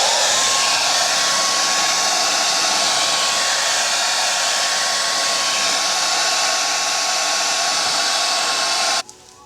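A heat gun blows steadily and loudly up close as it warms carbon fiber vinyl wrap on a car fender, a constant whooshing roar with a faint whine, cutting off abruptly at the end.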